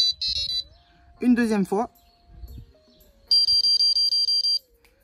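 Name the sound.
carp fishing bite alarm beeping while being switched off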